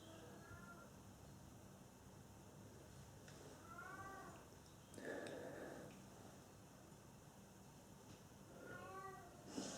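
A cat meows softly in the background of a quiet room, a few faint separate meows spaced across the stretch, with no talk over them.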